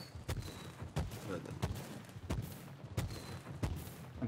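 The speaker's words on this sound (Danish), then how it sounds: "det er også fyrværkeri. Det larm faktisk ret meget." Fireworks go off in Fortnite, a string of sharp cracking bangs at roughly half-second intervals, fairly faint, with a voice talking softly underneath.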